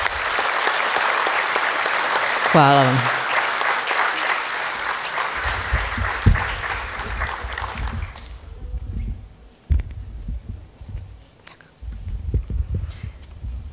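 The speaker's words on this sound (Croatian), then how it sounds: "jedan aplauz, još jedan više, bit će veliki dar" Audience applause fills a school year-end concert hall, dense and steady for several seconds before fading into a quieter room with scattered claps and a brief spoken thank-you.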